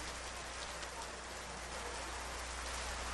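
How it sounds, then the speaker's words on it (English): Rain falls steadily in the Ifugao mountain terraces, a soft, even patter on surfaces with scattered drops, continuous and without voices. "The rains have come"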